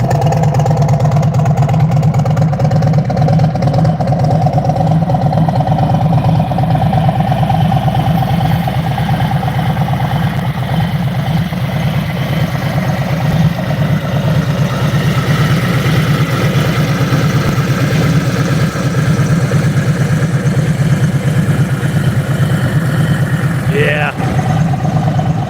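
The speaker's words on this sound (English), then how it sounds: "That's a Tab Performance exhaust they put on." A 2024 Harley-Davidson Road Glide fitted with a Tab Performance exhaust idles steadily nearby, its low, constant rumble running unbroken for the whole stretch while people talk over it.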